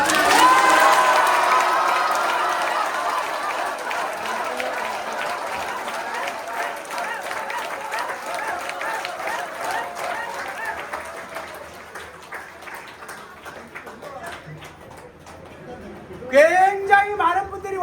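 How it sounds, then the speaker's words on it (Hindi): An award ceremony audience gives loud applause and cheering for winners at an ethical management best centre awards event, fading gradually under ongoing talk before a voice speaks at the end. "एक बार इन लोगों के लिए जोरदार तालियां"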